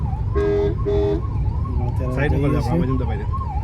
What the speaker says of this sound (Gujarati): જો એમ્બ્યુલન્સ છે અમારી જોડે આવીને જતી રહી